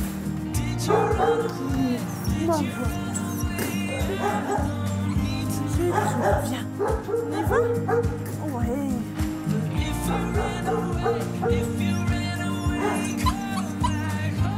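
Small dogs at an animal shelter yip, bark and whimper repeatedly over constant background noise, while people talk briefly nearby.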